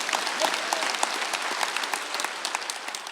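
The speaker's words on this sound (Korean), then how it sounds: "여러분에게 하나님의 걸작품이라고 믿는 사람만 박수해." A Korean church congregation at Sunday worship claps together, steady applause with individual sharp claps standing out near the start, holding evenly for about three seconds.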